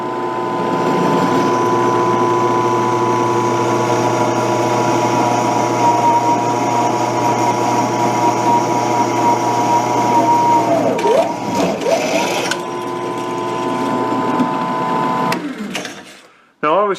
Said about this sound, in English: So let's try a 1/2 inch drill bit.